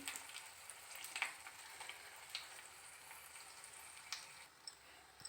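Dried red chillies fry in a shallow pan of oil for a tempering, with a faint steady sizzle and occasional small pops and stirring clinks. No one speaks.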